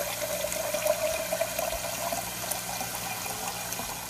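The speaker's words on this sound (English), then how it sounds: "you want to fill the jar the remainder of the way with cool water" Cool tap water from a well runs into a jar being filled for kefir water, a steady close splashing gush with a faint rising tone as the jar fills, unbroken and without talk.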